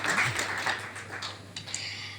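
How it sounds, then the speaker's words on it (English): Applause at an event launch in Colombo, a soft, distant wash of clapping that fades and thins over a low steady hum, with a few sharper claps toward the end. "A round of applause, ladies and gentlemen, to energize them while they stand on stage."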